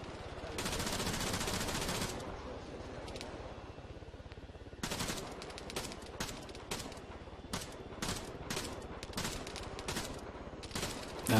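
Sustained automatic gunfire in the shooter game Arma 3, aimed at a helicopter: a long continuous burst, then a pause, then repeated rapid bursts and single cracks, loud and close.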